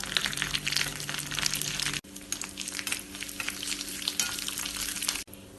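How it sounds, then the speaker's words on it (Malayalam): Mustard seeds, dried red chillies, curry leaves and grated coconut crackle in hot coconut oil for a tempering, giving a close, steady sizzle and pop with two abrupt cuts and no voices. "അര ടീസ്പൂൺ കടുകും രണ്ട് വറ്റൽമുളകും കുറച്ച് കറിവേപ്പിലയും ഒരു ടേബിൾ സ്പൂൺ തേങ്ങ ചിരകതും ചേർത്ത് കടുക് താളിച്ചെടുക്കാം"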